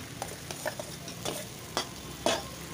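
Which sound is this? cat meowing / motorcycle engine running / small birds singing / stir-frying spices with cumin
stir-frying spices with cumin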